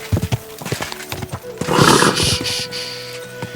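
In Kingdom Come Deliverance 2, a horse's hooves clatter in a quick galloping rhythm, then the horse lets out a loud, close whinny, with brief voices around it.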